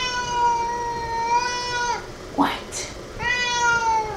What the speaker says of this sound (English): My cat wants attention.